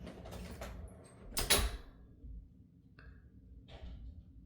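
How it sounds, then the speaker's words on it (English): A door swings shut in a home with a firm thump and brief rattle, followed by softer latch clicks a moment later, heard fairly close against a quiet room with no talking. "close the door"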